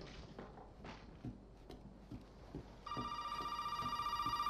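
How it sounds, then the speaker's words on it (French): Telephone ringing in the video game Resident Evil 7: quiet, faint ambient rustling gives way partway through to a sudden, steady, bright electronic ring that continues to the end. "téléphone qui sonne."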